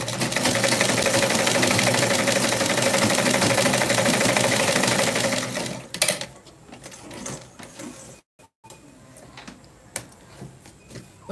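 Sewing machine stitching a white pleated garment, a fast, steady mechanical whir that runs loudly for about six seconds before stopping, followed by faint handling clicks and rustles.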